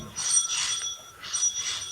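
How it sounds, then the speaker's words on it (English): A two-tone electronic front doorbell chime rings twice, bright and clear, with a short gap between the rings and no talking. "when the front doorbell rang"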